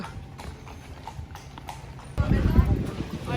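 Horse hooves clip-clop on a street in Bruges, Belgium, a steady rhythmic trotting that grows louder and closer toward the end, with people talking over it.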